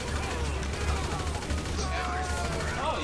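Rapid gunfire in GTA V, a steady stream of shots fired at the player character, heard as muffled bursts under low rumbling game ambience.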